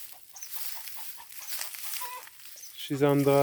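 Hens in a garden chicken run cluck loudly near the end, after a soft murmur of background voices and outdoor noise fills the first few seconds.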